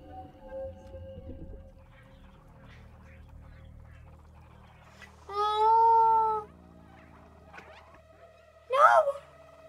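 Two drawn-out meows from the cat in the video game Stray, heard separately against quiet game ambience, the first long and steady, the second shorter and rising, with faint indistinct voices early on.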